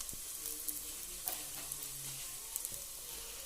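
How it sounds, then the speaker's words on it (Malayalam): Chili powder frying with sliced onions in a pan, a faint steady sizzle with occasional soft stirring scrapes, quiet and close with no voice. "മുളക് പൊടി ഒന്ന് നല്ലതുപോലെ ഒന്ന് മൂപ്പിച്ച് കൊടുക്കാം"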